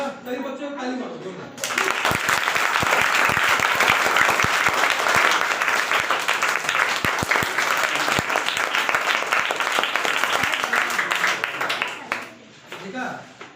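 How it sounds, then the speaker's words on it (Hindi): A group of children at a workshop clap together for about ten seconds, a loud dense burst of applause that starts suddenly and tapers off. Voices can be heard before and after it. "कई बच्चों को ताली मारो"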